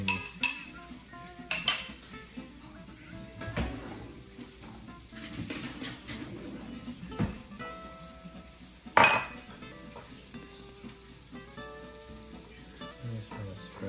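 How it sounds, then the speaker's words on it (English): Food fries in a pan at a home cook-off, with a soft steady sizzle under irregular clinks and scrapes of utensils against cookware, fairly quiet and close, no voices. "Cooking behind me."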